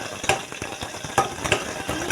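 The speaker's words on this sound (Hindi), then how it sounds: "ये देखिए मैंने सब्ज़ी छोंक दी है" Vegetables tempered in hot oil in a pressure cooker pot, stirred with a utensil: steady sizzling with several sharp metallic scrapes and clinks, close and fairly loud, no talk.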